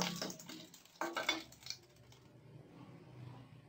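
Fried anchovies being lifted out of used frying oil and drained, with a few sharp clinks of a metal strainer or spatula against the pan, then a soft lingering sizzle of oil in the background.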